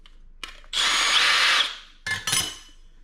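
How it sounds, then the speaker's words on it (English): A power chamfer tool deburrs sharp-edged holes in a metal license plate mount for a side-by-side UTV. It makes one close, loud whirring burst, then two short spurts after a pause. "I'm gonna use my chamfer tool. Just clean up the holes."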